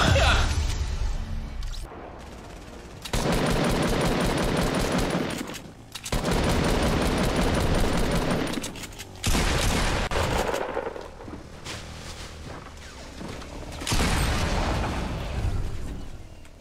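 Six Shooter revolvers fire in rapid, loud volleys in Fortnite, the bursts of shots falling into several separate clusters split by short lulls, with faint voices in between.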